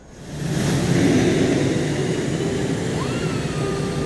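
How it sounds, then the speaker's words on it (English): A jet plane taking off in the video game Ace Combat 7, a loud engine roar that swells quickly and then holds as a steady, close rumble with a thin rising whine. "Right after takeoff, as the wheels retracted, the plane suddenly arced up."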